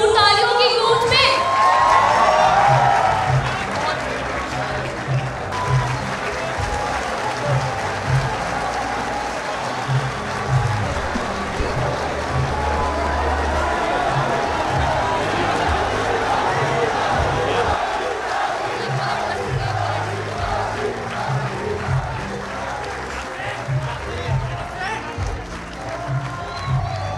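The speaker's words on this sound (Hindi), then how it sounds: "आपकी भरपूर तालियों की गूंज में" Audience applause at an Urdu poetry gathering as literary society presidents are welcomed onstage: sustained clapping and crowd noise, loudest at the start, then a steady roar with voices mixed in.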